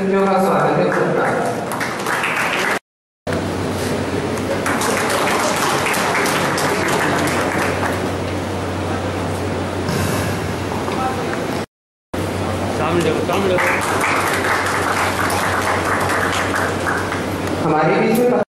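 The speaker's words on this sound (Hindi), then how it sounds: "जोरदार तालियों से हमारे अतिथियों का स्वागत है।" Loud, dense applause fills a hall as guests are welcomed at a youth career fair, with voices mixed in, a low steady hum underneath and two brief dropouts of sound.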